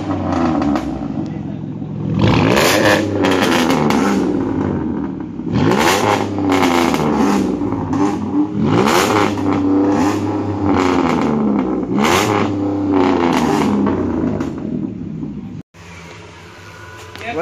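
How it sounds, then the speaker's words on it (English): A car engine revs hard in repeated loud surges, each climbing and falling in pitch, close up and filling the whole stretch, with people's voices faintly mixed in among friends outdoors. "Wait, can I rev it? Yeah. I rev it!"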